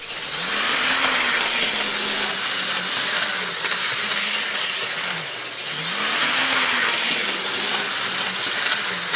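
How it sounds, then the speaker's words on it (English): A Life-Like model train locomotive engine runs at full throttle, a steady mid-pitched motor whir with slow rising and falling swells in pitch, close and continuous with no talk. "I did finally get the engine to start to run smooth, although again, even then, it wasn't running the way it was supposed to"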